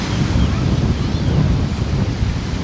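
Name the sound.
strong wind at the beach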